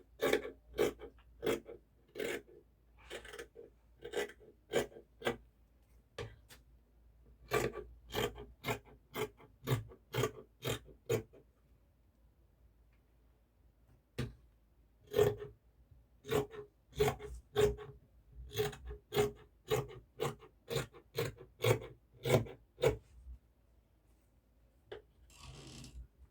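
Scissors cut out fabric pieces for a sewn gown with a Bishop collar, making a quiet series of crisp snipping rasps in quick bursts, separated by short pauses.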